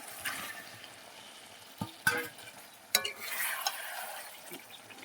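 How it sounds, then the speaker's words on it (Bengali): Beef hits hot spiced oil and fries with a steady sizzle, broken by a few sharp scrapes and clatters as it is stirred in the pan; close, no talking. "মশলার গায়ে থেকে তেলটা ছেড়ে গিয়েছে, মাংসটা দিয়ে দেবো।"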